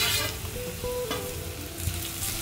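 Bitter gourd (karela) frying in a pan with oil, a steady close sizzle and crackle that continues without a break.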